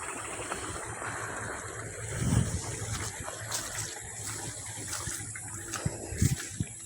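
Water flows through an irrigation channel in a rice field, a steady outdoor gush and wash with low rumbles, fairly faint under wind.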